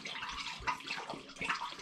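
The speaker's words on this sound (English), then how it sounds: "Right, I'll add a bit more spring water." Spring water pours into a glass demijohn of home-brewed carrot and orange wine, a steady close splashing trickle with gurgling bubbles running throughout, no voices.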